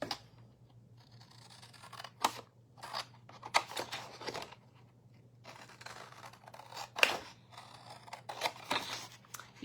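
Snips of scissors cutting designer series paper, a string of quick crisp cuts with pauses between them, close by and fairly quiet over a low steady hum.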